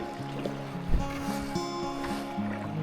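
A small boat pushes through shallow, gentle river rapids at Link River, with water rushing and splashing close by and hull knocks and thumps scattered through the steady flow. No one speaks.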